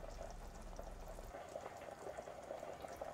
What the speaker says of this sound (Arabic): وهلأ صارت المرقة عم تغلي على النار العالية